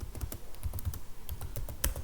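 C code being typed on a computer keyboard: a rapid, steady run of close key clicks with heavier thumps mixed in, with no speech.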